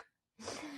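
A single sharp sneeze bursts out after a brief quiet moment, close and fairly soft, with a breathy rush trailing into the end.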